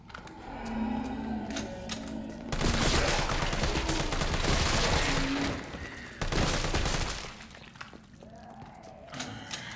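Rapid gunfire from a weak firearm in the Resident Evil 3 video game, a long dense burst of repeated shots that runs for several seconds, then breaks off and resumes.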